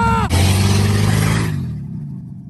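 A pickup truck engine roars loudly under the hood, its steady growling rev lasting about a second and a half before dropping away and fading out, heard close up with no talking over it.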